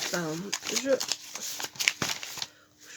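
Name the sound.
letters and envelopes being handled and restacked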